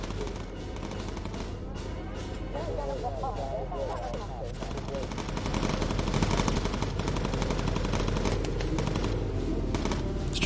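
Bomber gun turrets on a plane in the game Bomber Crew fire at an enemy ace, a dense stream of rapid machine-gun rattle that grows louder partway through, mixed with engine drone and game effects, with talk over it.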